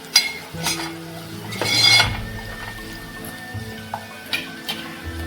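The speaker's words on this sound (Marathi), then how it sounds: "आता हे पण जरा परतून घेऊया" Turmeric, garam masala and hing being sautéed in a pan for okra prawn curry, with a soft sizzle under several scraping strokes of a spoon against the pan and a louder clatter in the middle; no voices.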